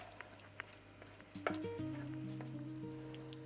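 Vegetables fry and stew in a pan with a quiet, steady sizzle, a few soft clicks, and a utensil stirring partway through, heard close and faint without any voices.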